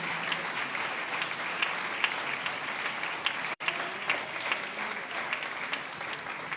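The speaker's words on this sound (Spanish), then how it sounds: "Un aplauso para el Señor en esta hora" A church congregation applauds together, a steady wash of many hands clapping with a brief dropout midway before the clapping resumes at the same even level.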